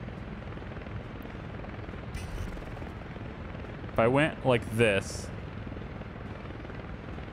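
Helicopters drone steadily in the Workers and Resources city-building game, a continuous rotor whir heard throughout at moderate level, while someone speaks briefly over it.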